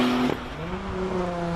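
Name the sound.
Porsche 911 turbo racing in hill climb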